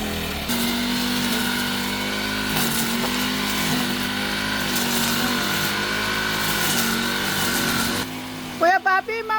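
A sputtering grass cutter engine runs steadily for several seconds with an uneven, wavering drone, loud and near, before cutting off, after which voices talk.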